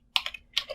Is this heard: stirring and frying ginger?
no